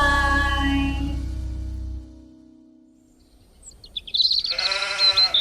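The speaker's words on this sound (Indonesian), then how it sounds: "Sepertinya domba-dombaku sudah aman." A sheep bleats, a drawn-out wavering cry rising clearly after a stretch of quiet, following a low sustained tone at the start.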